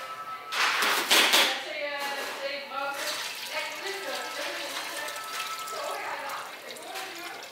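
Water running from a tap into a clean pan, measured out for a meringue in a bakery kitchen, a steady close pouring rush with a brief louder surge near the start, under a voice talking.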